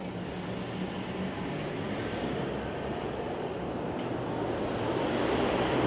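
A Toronto streetcar passing on a city street, a steady broadband rumble with a faint high whine that swells slightly as it goes by, heard alone without talk.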